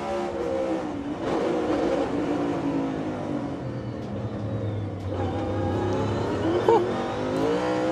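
A NASCAR Cup Series stock car at a street-circuit grand prix brakes hard into a corner, its engine note dropping and droning before revving back up, heard at a distance under commentators' voices.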